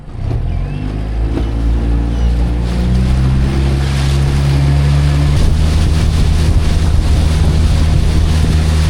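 A 9.9 Mercury outboard motor runs steadily at about 14 to 15 mph with two people aboard a small bass boat, its droning whine rising slightly, mixed with rushing wind and water slapping against the hull on choppy water.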